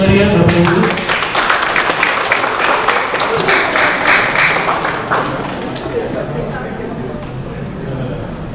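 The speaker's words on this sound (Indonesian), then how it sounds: "Mari kita beri tepuk tangan yang meriah" Audience applause at a training course completion ceremony, a loud dense burst of many hands clapping that continues steadily and eases slightly toward the end, with voices mixed in.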